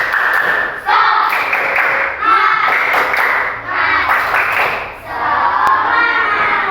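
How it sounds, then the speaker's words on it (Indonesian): A classroom of students performs a rhythmic spirit clapping chant, loud group voices shouting in unison with bursts of sharp hand claps in repeating phrases, close and energetic. "Tepuk semangat."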